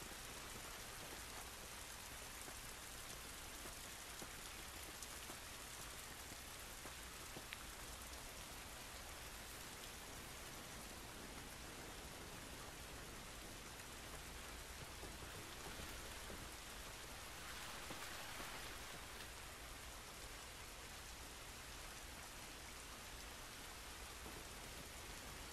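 Steady rain falls across an outdoor scene in The Last of Us Remastered, a dense, even hiss that holds unbroken and fairly quiet for the whole stretch with no voices over it.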